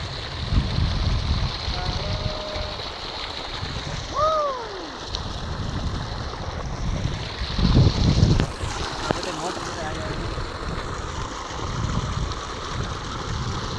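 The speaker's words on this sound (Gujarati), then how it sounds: "અહીંથી આ રાપામાં બધામાં પાણી જાય છે" Water rushes steadily through an irrigation channel on a farm, a broad continuous wash with wind buffeting the microphone, a brief louder surge near the middle, and a few birds whistling faintly in the distance.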